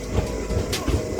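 A passenger train runs in Karnataka on its way to Byndoor station, giving a loud, close, steady rumble with rhythmic clattering of the carriages and no talk over it.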